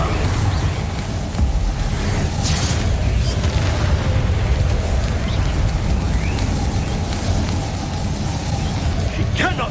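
Spell blasts from the Confringo curse in a Harry Potter video game give a dense, continuous rumble of explosive bursts, with characters speaking over the din.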